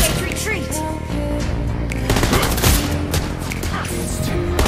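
The sheriff hero Clint fires in a video game match, a loud, rapid burst of repeated gunshots layered over busy game music and effects, with a short character voice line mixed in.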